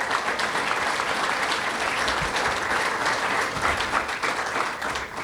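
A press-conference audience for Kennesaw State women's basketball applauds, a dense, even burst of clapping sustained for several seconds at close range with no talking.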